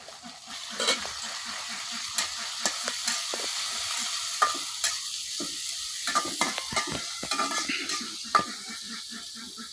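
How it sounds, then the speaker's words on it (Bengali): Sizzling dried fish frying with onion and garlic in a pan, with repeated scraping and stirring clicks from a utensil, steady and close, no voices. "শুটকিগুলা দিয়ে একটু লাড়াচাড়া করে নিলাম।"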